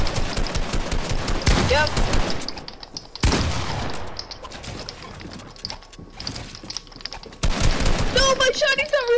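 Fortnite gunfire, several loud sharp bursts of shots broken by quieter gaps, with a person talking briefly among the shooting.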